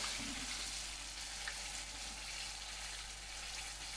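Zeppole dough frying in hot oil, a steady close crackling sizzle that holds at an even level throughout with no talking.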